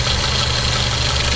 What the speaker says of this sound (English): And you can hear immediately a very slight drop in engine RPM.